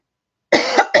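A sharp, close cough follows silence, then a second cough begins right after.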